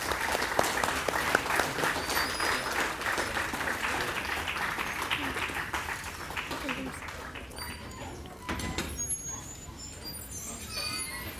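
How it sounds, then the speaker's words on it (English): An audience claps for dignitaries at an inauguration ceremony, a dense, sustained ovation that thins and fades toward the end. "I request everyone to give a huge round of applause for all our dignitaries"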